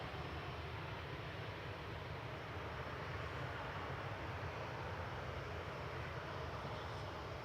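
Aircraft, including two Dreamliners and a Virgin A350, taxi out at Manchester Airport with a constant, dense jet-engine rumble and hiss that stays level from start to finish, with no one speaking.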